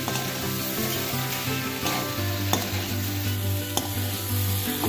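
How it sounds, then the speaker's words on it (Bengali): Potatoes with chopped tomato, cumin powder and coriander powder sizzle loudly in a pan while a spatula stirs and scrapes steadily, with a few crisp clacks against the metal. "আলুর সাথে টমেটো কুচিটাকে ভালো করে মিশিয়ে নিয়ে দিয়ে দিচ্ছি 1 চামচ জিরে গুঁড়ো, 1 চামচ ধনে গুঁড়ো"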